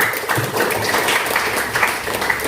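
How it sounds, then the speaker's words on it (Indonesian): A classroom full of people claps together in a dense, steady patter of applause lasting a few seconds, with faint voices underneath. "Tepuk tangan untuk kelompoknya Desa"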